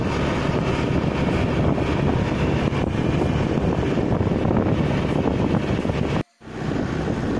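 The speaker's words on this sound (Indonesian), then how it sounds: "Kondisi keadaan lagi naik motor pelan-pelan." Steady wind buffeting and road rumble while riding a motorcycle slowly, captured through the rear camera of a Coolpad Roar Plus E570 phone, loud and continuous with a brief dropout near the end.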